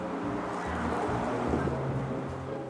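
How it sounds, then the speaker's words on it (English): Strong wind gusts outdoors at a butterfly garden, a steady broadband roar buffeting the microphone for the whole stretch with no speech over it. "It's very windy"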